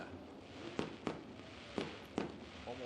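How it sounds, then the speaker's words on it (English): Fireworks bursting over Oshweken Speedway, four distant sharp pops spaced unevenly across a few seconds over a faint background. "fireworks lighting up the sky here at Oshwegan Speedway"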